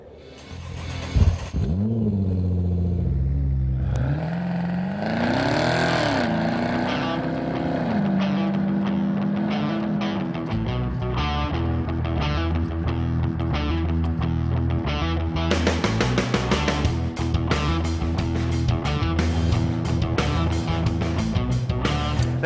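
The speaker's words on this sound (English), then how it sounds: "Let's drive the 2012 Camaro ZL1 and check the tech." Engine of a 2012 Chevrolet Camaro ZL1 revs hard on the move, its deep rumble sweeping up and down through several surges, with a rising roar in the final stretch.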